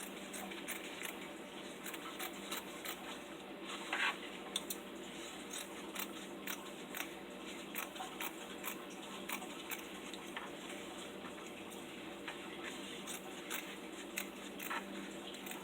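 Scissors cut denim fabric into long strips for crochet, giving faint, steady, rhythmic snips, close by and fairly quiet over a soft background hiss.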